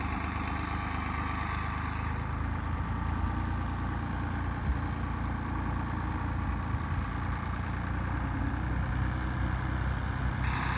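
A small 3630 tractor engine labours steadily under a heavy load of straw, a loud continuous low rumble that holds throughout with a slight shift in tone partway through, no voices present.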